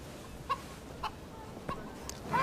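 A hen clucks in several short, separate calls at a moderate distance over a steady low background, ending in a louder squawking burst.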